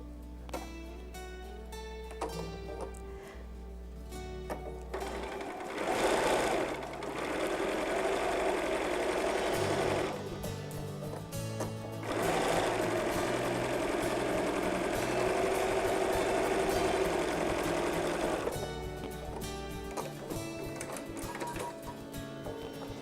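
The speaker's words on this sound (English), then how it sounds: "I'm going to go ahead and sew that for you." A sewing machine stitches a quarter-inch quilting seam in two long runs of steady, rapid mechanical whirring, close and clear, with quieter pauses and handling between and around them.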